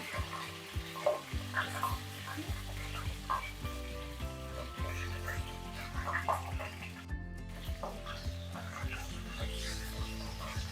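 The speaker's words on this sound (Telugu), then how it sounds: "జీలకర్ర ఫ్రై అయ్యాక మనం తీసుకున్న పచ్చిమిర్చిని ఇందులో వేసేయాలి" Green chillies frying with cumin in hot oil crackle and sizzle up close, with stirring scrapes and clinks against the pan throughout and no talking.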